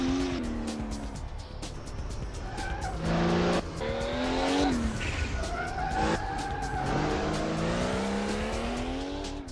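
A Porsche 935 race car in a racing simulation, its engine roaring loud and close as it revs up and down through gear changes, with tire squeal in the tight corners.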